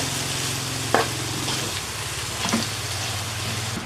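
Sausage, corned beef and butter sizzle in a pan for creamy mac and cheese while a spoon stirs them. The frying hiss is continuous and close, with occasional clinks of the utensil against the pan.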